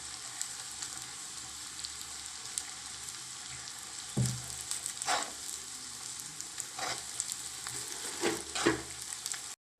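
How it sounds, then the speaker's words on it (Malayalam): Salted jackfruit pieces sizzle steadily in a pan of hot oil, with several scraping stirs of a spatula breaking through the continuous frying hiss. "ഇനി നമുക്ക് ഇതൊന്ന് നന്നായിട്ടൊന്ന് ഇളക്കി കൊടുക്കാം"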